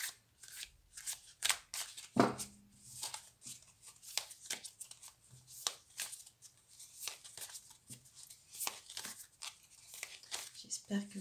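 Tarot cards shuffled by hand at close range, a steady run of crisp riffling snaps and papery flicks with one sharper slap early on, a voice heard faintly at times.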